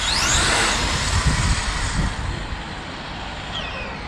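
An MCD XR5 driving at about 80 km/h gives a steady, loud broadband road and engine roar with wind noise. It stays constant throughout, with no talking.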